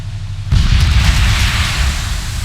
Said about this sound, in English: I think I blew up the front of his ship.